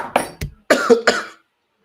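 A few sharp, rough coughs close up, followed by a throaty clearing, then silence.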